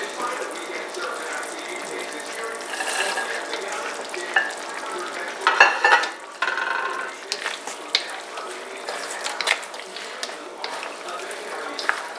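Vegetables stir-fry in a pan for noodles, a continuous sizzle with scraping and clattering of the utensil and occasional sharper knocks, close and steady throughout.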